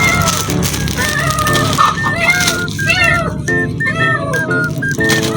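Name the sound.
small pet cat meowing for food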